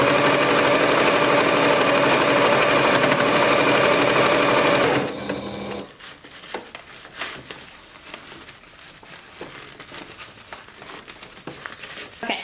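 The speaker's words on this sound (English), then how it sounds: "So I'm getting near to the end of where I originally started sewing." A sewing machine stitching thick fabric for scrunchies runs as a loud, steady whirring hum for about five seconds, then stops, leaving close crinkling and handling sounds of the fabric.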